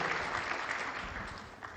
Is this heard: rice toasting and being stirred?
no